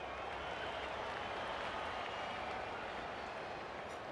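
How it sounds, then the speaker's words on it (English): A large video game crowd roars and cheers continuously after a goal in an Australian rules football match, a dense steady wash of noise with no break, like a packed stadium. "The crowd noise tells you all you need to know."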